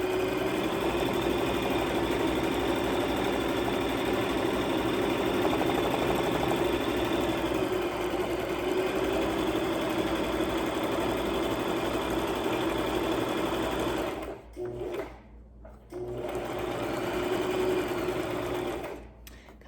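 A sewing machine runs steadily on a log cabin pillow, stitching forward and then in reverse in a continuous close mechanical whir, with two brief pauses near the end.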